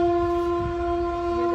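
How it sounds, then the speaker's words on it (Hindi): A steady train horn or whistle tone holds throughout, loud and continuous, with low rumbling underneath and no voices. "ये देख कितनी बड़ी रेल है"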